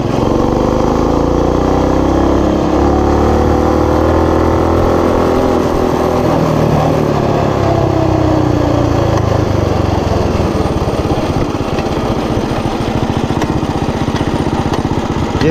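A Coleman BT200X mini bike engine runs steadily and loudly throughout, a close, continuous small-engine drone with slight shifts in pitch.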